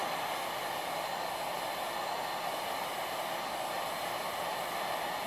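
A heat gun blows a steady, even hiss of hot air onto a Galaxy S5 phone screen, close and continuous throughout with no talk.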